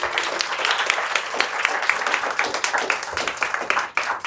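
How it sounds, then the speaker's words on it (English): A crowd applauds, many hands clapping in a dense, lively patter that continues for several seconds, fairly close. "Let's give them a round of applause."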